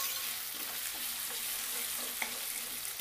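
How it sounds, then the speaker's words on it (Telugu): Ginger garlic paste frying in oil in a pan, a continuous hissing sizzle with faint stirring scrapes, close and even in level throughout, no speech. "ఈ ఆయిల్లో ఈ అల్లం వెల్లుల్లి పేస్ట్ కూడా కొంచెం వేగిన తర్వాత"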